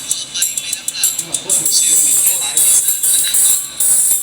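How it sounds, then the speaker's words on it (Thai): A treble tweeter driven through a three-way speaker crossover gives off bright, hissy high-pitched tones in repeated short bursts and then a steadier stretch, fairly loud and close. "นี่เสียงแหลมนะครับ"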